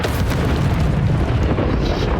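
An Expelliarmus spell blast in Hogwarts Legacy on Nintendo Switch lands as a loud, sustained booming roar with heavy low rumble, dense and continuous across the whole stretch with no talking.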